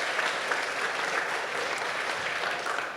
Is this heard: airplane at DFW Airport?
no